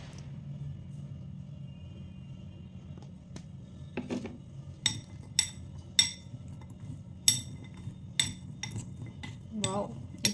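Gooseberry candy tossed with icing sugar in a bowl, a series of light clinks and taps of a spoon against the bowl at irregular intervals, close and fairly quiet over a low background rumble.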